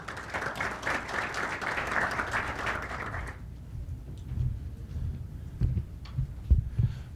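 Applause from an audience at an evening academic event on access to justice, welcoming a doctor to the podium; dense clapping for about three seconds, then it stops abruptly, leaving low rumbling room noise and a few soft knocks.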